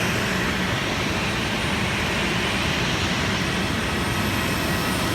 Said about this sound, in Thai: ตอนนี้เครื่องบินของสายการบินนกแอร์กำลัง ขับเคลื่อนมานะ